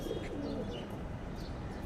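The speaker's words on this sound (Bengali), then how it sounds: "এই যে একটা তাল কবুতর আমার পছন্দের একটা মাদি" A female pigeon coos softly against a steady background hum, low and continuous, with faint chirps flickering overhead.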